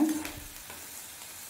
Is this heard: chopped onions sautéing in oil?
yes